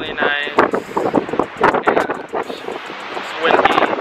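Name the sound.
wind blowing at a Hawaii beach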